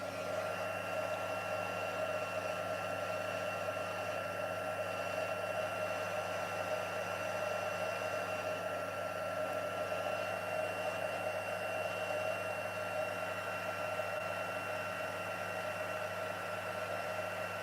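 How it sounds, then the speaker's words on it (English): A heat tool melts white embossing powder on a card with a steady, even blowing whir that holds for the whole stretch, fairly quiet and close, with no speech over it. "So I'm going to bring my heat tool in,"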